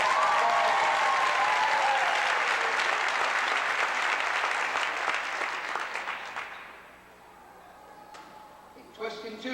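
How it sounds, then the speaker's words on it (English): Audience applause in a school gymnasium in 1989, dense clapping that holds steady for several seconds and then fades out, followed by a near-quiet room with a few stray sounds. "Let's give them a round of applause."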